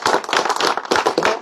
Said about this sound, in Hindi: ये तालियों की जो गड़गड़ाहट आप सुन रहे हो